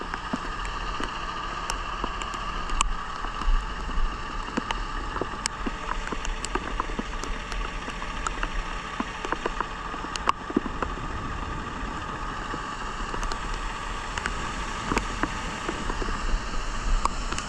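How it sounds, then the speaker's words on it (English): Hail and rain from a spring storm beside a semi rollover accident scene, a dense steady patter with scattered sharp ticks of stones striking surfaces, constant and moderately loud, with no distinct thunder roll standing out. "Thundering and hailing."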